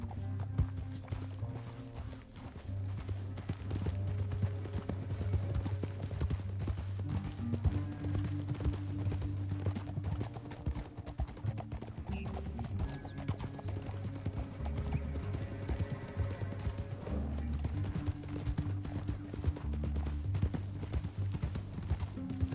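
Horse hooves clip-clop steadily in Red Dead Redemption 2, an even trotting rhythm under a low musical score, with an occasional whinny and a faint voice in the background.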